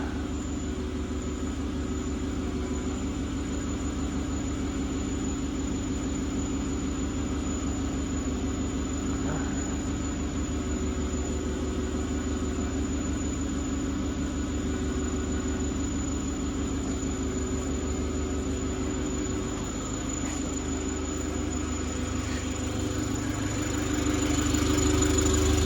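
A John Deere B tractor engine idles steadily and close by for the whole stretch, a low, even throb that rises slightly in loudness near the end.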